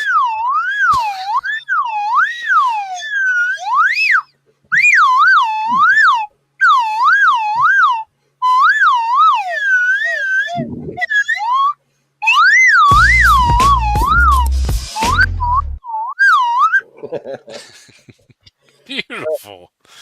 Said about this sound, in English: Povot, you should be doing the sound effects with the whistle as he's there.